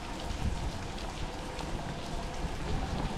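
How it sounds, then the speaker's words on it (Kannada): Steady rain falling outdoors on a hill station, a continuous broadband patter with no clear individual drops, moderately loud and unbroken throughout, with no voices. "ಮಳೆ"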